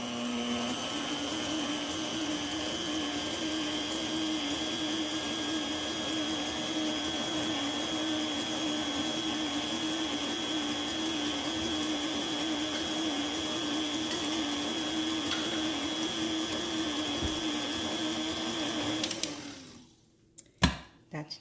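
An electric whisk mixes gingerbread dough in a steady, constant high whir that runs for about nineteen seconds and then cuts off abruptly, leaving a few faint knocks.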